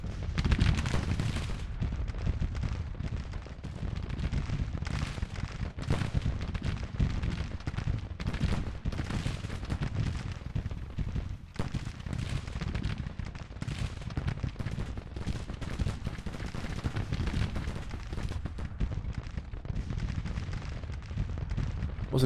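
Continuous roar of massed artillery fire from American Civil War cannon divisions in Grand Tactician: The Civil War, a dense rumbling barrage with overlapping booms that never lets up, steady and loud throughout.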